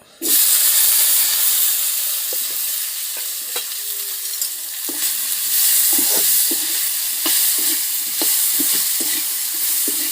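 Potato and tomato pieces fry in a hot pan with a loud, hissing sizzle that flares up right at the start, while a ladle stirs and scrapes with intermittent knocks; no one talks.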